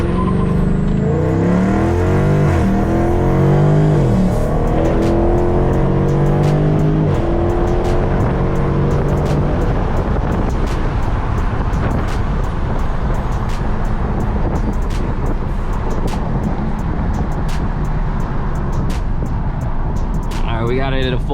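A 2019 Dodge Charger Scatpack launches hard with its tires spinning, the engine roaring and rising in pitch close by, then holding a loud sustained howl with wheelspin noise, while someone talks over it.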